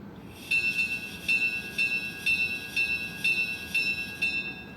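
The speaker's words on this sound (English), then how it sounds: "Here's the bell." Model locomotive bell from a LokSound DCC sound decoder, ringing in steady repeated strikes about twice per second, clear and bright over a faint background hiss.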